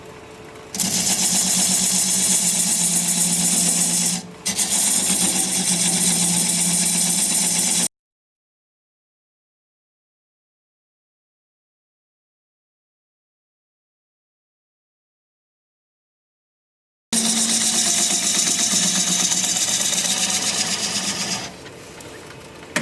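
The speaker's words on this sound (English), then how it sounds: "I'm going to take a 1/2 inch standard grind bowl gouge and begin to removing the tenon" A wood lathe spinning a bowl at about 500 RPM while a 1/2-inch standard-grind bowl gouge cuts away the tenon. Close, loud, steady motor hum and hissing cut come in two sustained stretches separated by a long silent break, with no talking.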